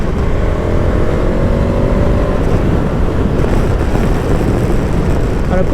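A 2023 KTM 1290 Super Adventure S motorcycle engine revving hard through quick-shifter gear changes, a loud continuous roar with rising pitch sweeps, close and without talk.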